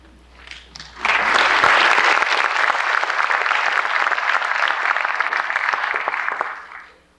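Applause from an audience at a 1992 student symposium at the University of Texas, starting faintly, then swelling abruptly into loud, dense clapping that holds for several seconds before tapering off sharply at the end.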